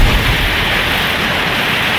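Torrential rain mixed with hail pounds down over a field of young maize and black soybeans, a loud, dense, unbroken roar with no voices.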